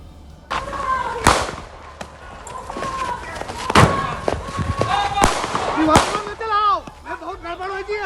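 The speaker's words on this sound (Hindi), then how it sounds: "नीली टी शर्ट वाला ये शख्स एक के बाद एक कई राउंड गोलियां दागता रहा" Several sharp, loud gunshots ring out at irregular intervals amid a noisy crowd during a gold chain theft at a jewellery shop in Shamli, Uttar Pradesh, with shouting voices and a rising whistle-like tone near the end.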